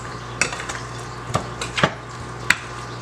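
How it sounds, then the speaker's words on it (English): Oxtail stew, just sweetened with molasses, is stirred in a pot, with a few sharp spoon clinks and scrapes at irregular intervals over a steady background hum. "You give it a stir."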